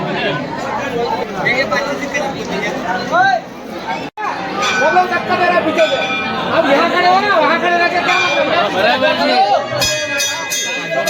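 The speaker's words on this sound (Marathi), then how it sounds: "इथे गडकालिका मंदिरमध्ये खूप गर्दी आहे बघा" A dense crowd mills around Gadkalika temple in Ujjain, its steady babble of many overlapping voices filling the space, with a brief bell-like ring and clatter near the end.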